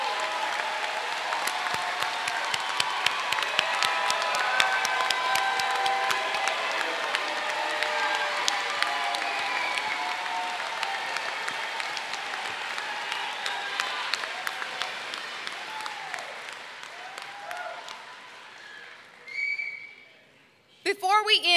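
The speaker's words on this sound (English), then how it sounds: "let's give all of our graduates a round of applause, a standing ovation, a shout out." Graduation audience at an apprentice school ceremony gives a long standing ovation, dense sustained applause with cheers and scattered whistles, fading out near the end.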